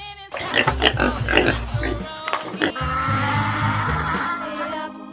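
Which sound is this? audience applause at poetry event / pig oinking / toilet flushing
pig oinking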